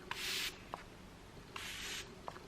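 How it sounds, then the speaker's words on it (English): A facial mist spray applicator fires two short hissing bursts of fine mist, with light clicks of the pump between them, close and quiet. "Has a little spray applicator on the top."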